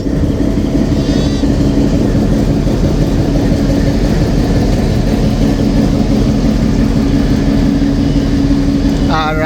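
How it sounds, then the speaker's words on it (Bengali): A WDM diesel locomotive idles at a station with Iranian vacuum coaches, a loud continuous low rumble and drone filling the whole stretch, with a brief higher whistle-like tone near the end. "আর এই হলো আজকে আমাদের সফর সঙ্গী ডাব্লিউডিএমডি তার সাথে হচ্ছে ইরানি ভ্যাকিউম কোচ"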